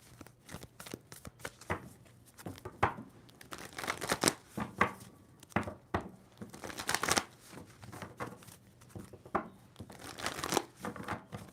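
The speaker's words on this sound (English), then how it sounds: "Two more shuffles?" A tarot deck being shuffled repeatedly, crisp riffling and slapping bursts in an irregular rhythm, close and fairly quiet.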